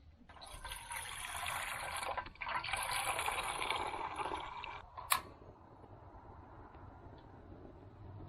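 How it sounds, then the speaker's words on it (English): Water running from a container into a coffee pot during an overnight tent camping trip, a continuous pouring hiss that stops abruptly after a few seconds, followed by a sharp click and a quiet outdoor background. "Let's get the water on for my coffee."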